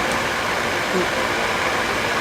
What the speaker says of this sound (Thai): วันนี้อยู่ใต้พัดลมนะ เสียงจะดังไปหน่อย